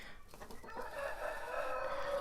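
A rooster in a backyard poultry yard crows nearby, one drawn-out call rising and holding for about two seconds, loud against a quiet background.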